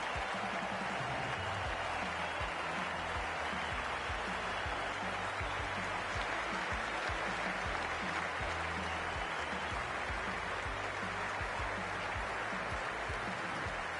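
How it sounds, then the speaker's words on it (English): Steady stadium crowd applause and cheering in a Cricket 24 video game, a New Zealand versus Australia match in Australia, a continuous dense roar sustained throughout without pauses. "It's a fantastic crowd in today."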